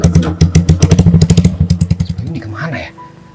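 A big motorcycle engine close by, with rapid loud rhythmic throbbing pulses that slow and fade as it settles toward idle.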